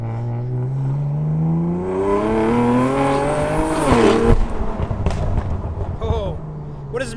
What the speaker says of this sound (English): rev the engine when it's cold